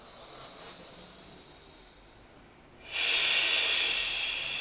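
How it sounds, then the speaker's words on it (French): A deep, steady exhale during a relaxation breathing exercise, heard close and breathy, swelling into a loud hiss in the final second and a half, with no talking. "On expire profondément."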